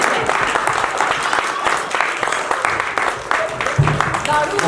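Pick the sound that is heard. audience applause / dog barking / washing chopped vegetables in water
audience applause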